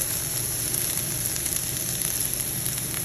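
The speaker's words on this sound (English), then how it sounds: "the asparagus are in the pot cooking" Asparagus and garlic frying in a pot give a steady, close sizzle with a soft crackling hiss that carries evenly from start to finish, with no voices over it.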